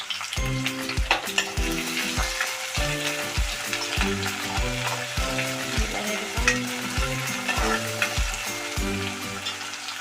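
Crushed garlic, ginger, cumin and coriander frying in a pan for a fish-head dish, a strong continuous sizzle under a regular series of rhythmic scraping stirs, close and loud, with no speech.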